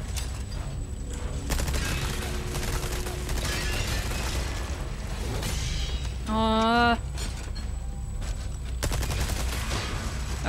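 TMP submachine gun fire in Resident Evil 4 Remake, dense rapid bursts of shots layered over game noise and music, with a short tonal game sound midway and a voice talking briefly.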